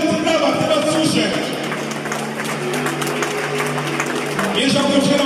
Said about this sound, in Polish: Cały czas brawa, nieustające brawa, chcę was słyszeć.